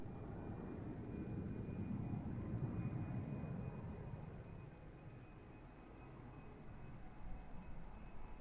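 A passenger plane on approach to runway 02 at Lisbon Airport produces a steady, distant engine roar that swells and then eases slightly, heard alone over a low background hiss.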